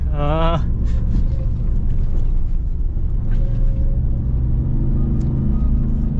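A 2021 Ram TRX pickup truck rumbles steadily off-road, its engine droning loud and close throughout, with a brief rising whine at the start and people talking over it.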